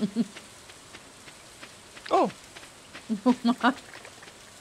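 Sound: rain sounds in the video game Stardew Valley

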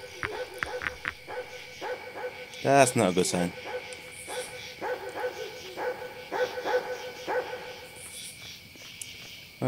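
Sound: dog barking in the video game Yomawari: Night Alone

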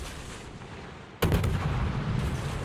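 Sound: naval AP gunfire from warship, World of Warships video game

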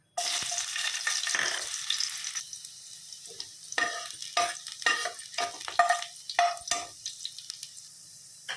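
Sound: onions frying in hot oil

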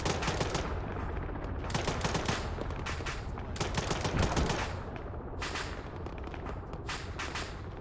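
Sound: gunfire at hostile paratroopers in a video game

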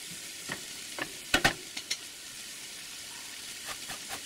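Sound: frying vegetables in pan while stirring

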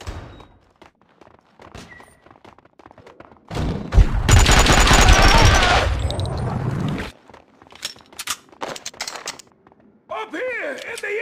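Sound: gunfire in the video game Max Payne 2

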